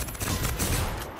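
Rapid gunfire in the video game Generation Zero, a short, dense burst of overlapping shots that rattles steadily for about a second.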